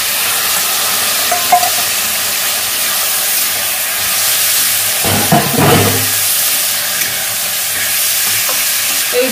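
Chicken pieces hiss loudly as they are poured into a pan of softened onions for a chicken posto curry, a steady frying sizzle throughout with a burst of spatula stirring near the middle.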